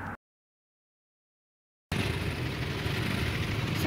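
Motorcycles and other vehicles idle together at a gate, a steady, dense engine rumble that cuts in after a brief silence and holds at a constant level.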